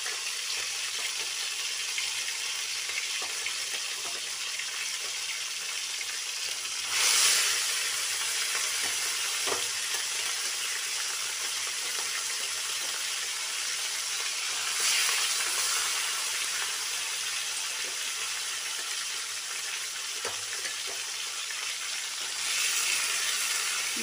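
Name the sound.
rui fish frying in hot oil in a wok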